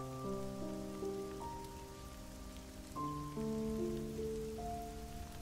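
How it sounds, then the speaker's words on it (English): Steady rain in the video game God Eater 2 Rage Burst patters over a surface, heard with sustained musical tones layered on top, moderately quiet throughout. "And it's raining."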